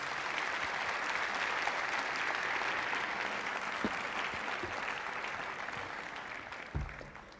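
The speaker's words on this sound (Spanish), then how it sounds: "Damos un aplauso, por favor, gracias." A live audience applauds steadily for about seven seconds, dense and sustained clapping with a faint thump near the end, as a welcome at a talk or lecture.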